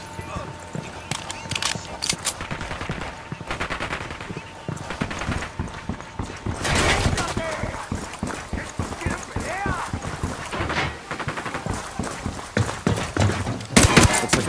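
Gunfire in the video game Ghost Recon Wildlands: rapid bursts of shots and sharp reports mixed with louder impacts, dense and continuous with voices talking over the fight.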